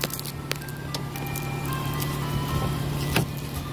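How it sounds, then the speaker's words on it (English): A Wolo 85 ice cream truck plays its tinkling chime melody at a moderate distance, thin tones running beneath steady street noise with a few scattered knocks and footsteps nearby. "I can hear the ice cream truck. It's the wolo 85 ice cream truck."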